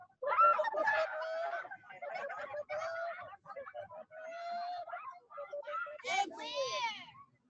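Several people mimic chicken sounds with their voices, making clucking calls that end in a rising, crow-like squawk, loud and close throughout.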